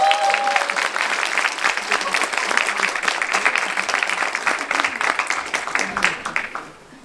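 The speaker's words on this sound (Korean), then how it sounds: "큰 박수 부탁드리겠습니다." Audience applause at a children's song concert with a composer, a full, dense round of clapping from the hall that holds steady for several seconds before fading out at the end.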